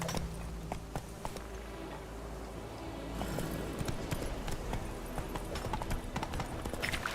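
In The Witcher 3, the horse Roach gallops, rapid rhythmic hoofbeats that pick up pace and intensity midway, steady and fairly near under game ambience.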